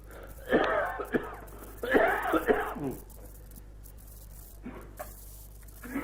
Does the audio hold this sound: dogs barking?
no